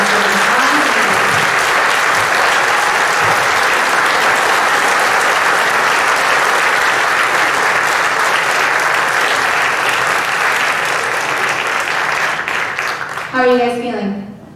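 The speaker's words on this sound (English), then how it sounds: "Let's give them a round of applause for these bronze medals." An audience claps for the bronze medal winners at the Great American Think Off debate, a loud, even round of applause that runs about twelve seconds before fading, with a voice starting to speak at the end.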